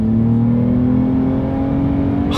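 A 2020 Toyota Avalon TRD accelerating hard, engine note rising steadily in pitch as it pulls through the gear, loud and close from inside the cabin, with no talking.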